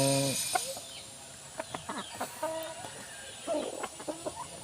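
A small wild junglefowl (labuyo) gives short, soft clucks in a quick irregular series, close by, with a brief low voice heard at the start.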